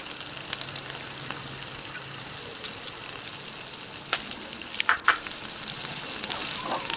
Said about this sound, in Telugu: దొండకాయలతో పాటు పెసరపప్పు కూడా ఒక 2-3 మినిట్స్ వేగితే పెసరపప్పు క్రంచీగా వస్తుంది